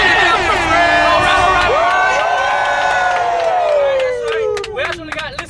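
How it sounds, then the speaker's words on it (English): Live crowd in a tour van setting cheering, whooping and clapping loudly together, with voices shouting over the din before it thins out near the end. "Round of applause for everybody."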